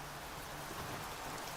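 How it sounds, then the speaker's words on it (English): Rain falls steadily in the stormy depths of the video game Sancticide. It is a dense, even hiss of downpour with no distinct drops or voices. "It's always raining down here."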